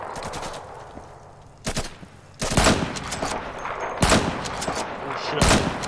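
Gunfire in the video game Insurgency, several loud bursts of automatic shots separated by short pauses, close and punchy, with a voice talking in between.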